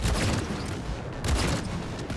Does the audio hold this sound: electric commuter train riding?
no